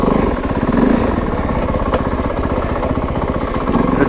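A Kove 450 Rally dual sport motorcycle ridden on British Columbia singletrack: a steady, close single-cylinder engine drone with a fast pulsing throb, loud and constant with no voices.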